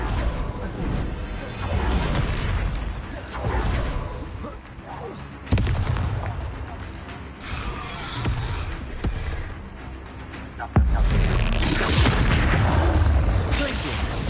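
Confringo blasting spell explosions in the Hogwarts Legacy video game: loud booming blasts burst repeatedly through a dense wash of game noise, with a voice shouting over the action.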